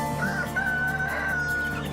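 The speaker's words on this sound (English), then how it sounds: "I raise chickens" A rooster on a farm with goats and sheep crows once in a long, drawn-out, loud call close by, over a steady background hum.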